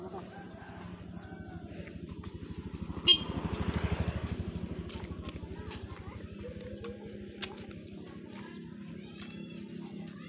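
A motorcycle rumbles close by on a residential street during Lebaran, its engine swelling as it passes, with a brief horn toot. People talk quietly nearby.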